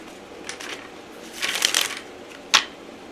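Tarot cards riffled and shuffled by hand in brief crisp bursts, a short flurry followed by a longer ripple and a sharp final snap, close and clear with no talking.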